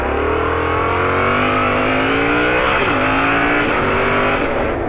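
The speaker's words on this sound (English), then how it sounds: "The incredible thing is just how much parallel twin engines have come." Yamaha MT-07 parallel twin engine revving hard on the road, a loud steady drone with rising and falling pitch throughout, no talking.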